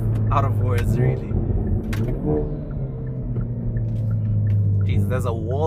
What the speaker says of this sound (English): there's a wall here and it just helps the exhaust echo around like crazy.